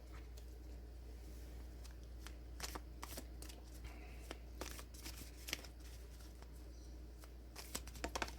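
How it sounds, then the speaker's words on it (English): Tarot cards are shuffled and drawn by hand, giving soft papery riffles and sharp flicks that come in irregular bursts over a low steady hum, close and fairly quiet, with no talking. "Let's pull the next card and see how this message unfolds."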